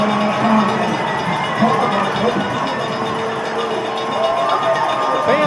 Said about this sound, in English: Fans finally have something to cheer about right there